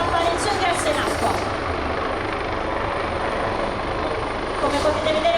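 A rescue helicopter hovering over water at the Jesolo air show, with its side door open, gives a loud, steady rotor and engine roar with a faint rhythmic beat throughout.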